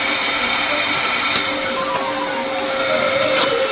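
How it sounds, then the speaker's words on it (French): An ordinary hair dryer blows a steady, loud, unbroken whoosh, with no talk over it. "sèche-cheveux ordinaire nous aidera"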